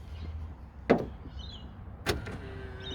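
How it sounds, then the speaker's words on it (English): A car door thuds shut twice, two sharp close slams about a second apart, against a quiet background with a faint mechanical whir. "now you do need to close the door"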